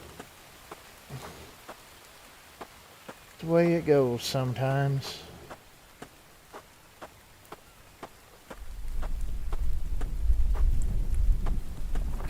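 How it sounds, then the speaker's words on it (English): Pouring rain patters steadily with scattered sharp drips, then swells into a dense, heavy downpour near the end; someone speaks briefly early on. "Be probably a little bit easier if it wasn't pouring rain on me"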